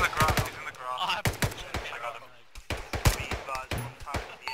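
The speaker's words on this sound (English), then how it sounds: "Shooting through wall." Rapid gunshots from Arma 3 crack through a wall in sharp, loud bursts, several close reports spread across the moment while players talk and shout over the shooting.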